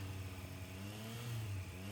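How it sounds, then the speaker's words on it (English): A Triumph Street Triple RS motorcycle engine revs being used to warm it and circulate coolant, giving a close, moderately loud droning rumble that rises in pitch toward the end, with no talk over it. "That's what they say, to rev it, whatever, get the engine hot to really start moving the coolant around."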